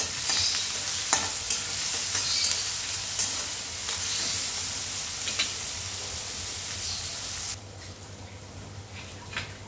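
Onions and salt frying in a pan for a spiced potato curry, with steady sizzling and a few scraping stirs of a spoon, close and alone, the sizzle dropping quieter near the end.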